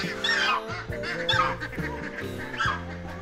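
Free-roaming birds outside their cages in West Sikkim give loud, repeated honking calls close by, overlapping in a noisy chorus.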